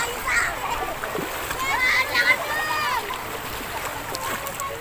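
Wading and splashing across a shallow, knee-deep river, with irregular close splashes and running water beneath people talking and children's voices nearby.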